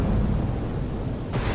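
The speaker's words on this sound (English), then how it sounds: "Oh, the thunder makes it even better." Deep rolling thunder in The Walking Dead game, a continuous loud rumble with a sharper crack of noise near the end.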